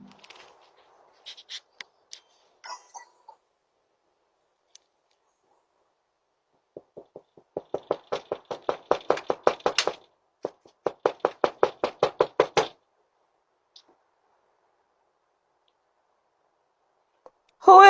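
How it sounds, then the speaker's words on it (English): Someone raps on a front door in repeated bursts of quick, sharp knocks, clear and close, with quiet gaps between the sets. "A stranger knocks on the door"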